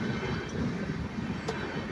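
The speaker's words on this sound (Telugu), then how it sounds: "పెద్దగా ఉంది ఇది ట్రైను" A large train passing nearby, a steady loud low rumble of rolling wheels and carriages that fills the short moment without a break.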